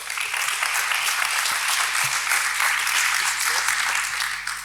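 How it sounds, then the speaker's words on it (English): Warm audience applause welcoming a speaker at a tech conference talk in Berlin, a dense, even wash of clapping that stays steady and loud throughout, with faint voices underneath. "give her a warm round of applause"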